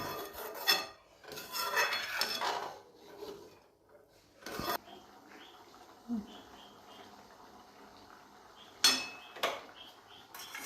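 Vegetables are stirred in a cooking pan, giving a few quiet, scraping strokes in short intermittent bursts with soft gaps between them.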